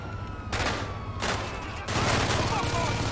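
Gunfire in GTA 5, dense bursts of shots crackling in waves, with loud broadband blasts starting and stopping over a steady low game hum.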